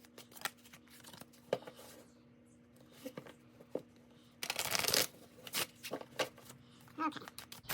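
A tarot card deck is shuffled close by in a quiet room, with soft, irregular riffling and flicking bursts and a louder, denser shuffle partway through.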